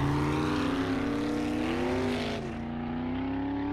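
A car in the zombie survival game 7 Days to Die drives on with a loud, steady engine drone whose pitch shifts and dips slightly midway, with no talk over it.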